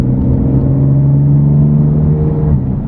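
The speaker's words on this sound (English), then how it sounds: "The new single mid pipe from Active Autowerke sounds so good." A BMW F80 M3 with a catless Active Autowerke single mid pipe exhaust, driving in Sport Plus with a loud, steady, deep engine drone and low rumble, close and constant with no talk.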